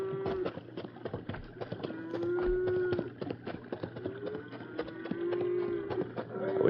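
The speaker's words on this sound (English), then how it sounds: "You hear that herd of cattle?" A herd of cattle lowing repeatedly in a staged radio drama scene, long overlapping moos rising over hoof clatter and movement, fairly close and continuous throughout.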